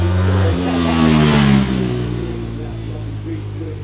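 A 2011 Fireblade's inline 1000cc four-cylinder engine revs at the Goodwood Festival of Speed, a steady, fairly close drone that shifts pitch as it climbs and settles, then eases into a lower hum, with people talking nearby.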